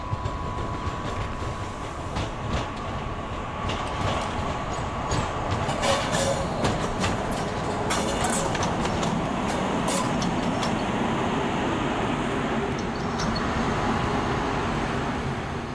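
Bombardier Traxx class 185 electric locomotive in graffiti-covered black livery shunting to its train, with a loud, continuous rumble of rail noise, a faint high whine and scattered metallic clicks and squeals close by.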